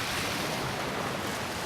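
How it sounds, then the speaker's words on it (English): Sea waves wash onto a sandy shore in a steady, unbroken roar of surf, fairly loud and close, with wind noise mixed in and no voices. "and you also become aware of the sounds of the waves."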